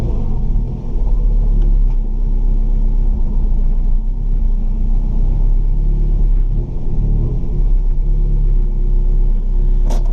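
A Nissan GTIR's engine runs steadily at idle, a loud continuous low rumble with slight fluctuations and no voices.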